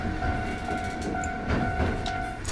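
A train rumbles past in a video game, its steady clatter carrying a sustained horn-like tone, loud and close with no talking.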